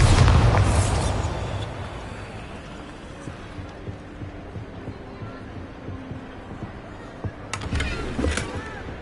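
Bombarda blasting spell going off in Hogwarts Legacy, a loud explosive boom at the start that decays into a rumbling tail, followed by quieter game ambience and a second burst of crackling near the end.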